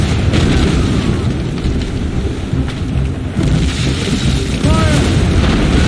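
Ship cannons fire heavy, rolling booms during an Assassin's Creed Rogue naval battle, layered over a loud hiss of rain-like noise and stormy rumble, with shouting voices in the mix.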